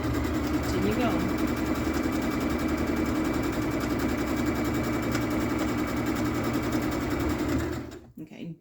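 A sewing machine runs steadily for about eight seconds, stitching a 3/8-inch seam along a beginner's tote bag at a slow, even pace, its motor hum and rapid needle chatter close and continuous before it stops.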